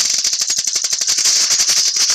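Rapid automatic gunfire in the mobile shooter Standoff 2, a fast rattling burst of closely spaced shots continuing without pause, loud and close.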